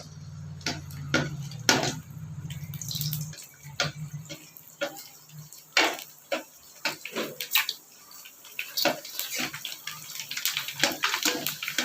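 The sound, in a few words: ready-made pani puri frying in hot oil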